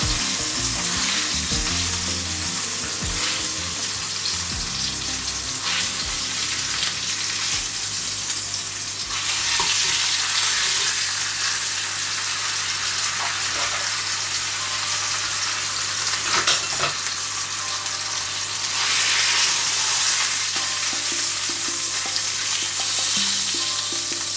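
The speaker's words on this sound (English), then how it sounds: "you don't get splattered by the fat from the meat and the oil from the pan" A lamb leg sears in a hot pan, its fat and oil spitting and splattering in a loud, continuous close-up sizzle with bursts of crackle and a low steady hum underneath.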